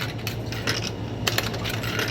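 Coins dropped one after another into a coin-operated machine in Namba, Osaka, Japan, giving a close run of bright metallic clinks and rattles over a steady low hum of the surroundings.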